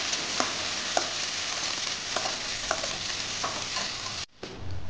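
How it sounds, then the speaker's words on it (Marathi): Chopped tomatoes and onion fry in a pan over popped mustard seeds while a spoon stirs them, giving a continuous close sizzle broken by regular scraping taps and a brief pause near the end. "व्यवस्थित आपल्याला मिक्स करून घ्यायचे।"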